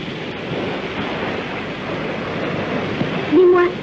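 Ocean surf and waves rolling in with wind, a steady broad wash of water noise, close and fairly loud, with a brief tonal sound near the end.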